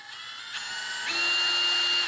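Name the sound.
Milwaukee M12 FUEL stubby impact wrench running in speed 2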